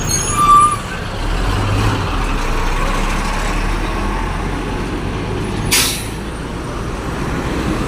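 Road traffic jam after a collision between a Grandia Super Deluxe and an Nmax, with trucks and buses idling nearby and a sharp air-brake hiss partway through, over a steady engine rumble.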